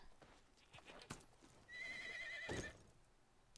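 A horse in the Medieval Dynasty video game gives a clear, close whinny midway through, rising and wavering, with a few soft clip-clops of hooves and light thumps before it.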